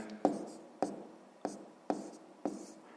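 A pen on paper writing down a number: five short, crisp strokes at an even pace, close and quiet.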